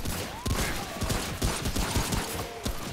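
Gunfire in the shooter Remnant: From the Ashes, a burst of sharp, close shots at irregular intervals with a few hits in between, loud and punchy over faint background ambience.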